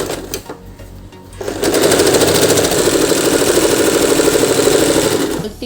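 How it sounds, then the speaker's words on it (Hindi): A sewing machine stitching the fabric lining of an umbrella-cut kurti, a few clicks and then a steady fast mechanical whirr running for about four seconds, close and loud. "अब हम अस्तर पर सिलाई करेंगे।"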